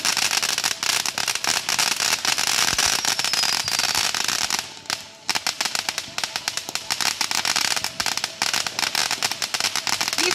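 Rapid, dense crackling bursts of Fourth of July firecrackers pop continuously for several seconds, with a short lull midway before the barrage resumes.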